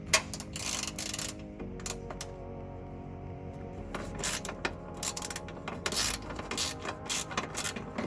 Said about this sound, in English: So you remove it with the swivel and a 7 socket.